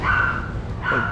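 A dog gives two short, loud barks, close by, on a street in Bangkok's Chinatown, with nobody talking over it.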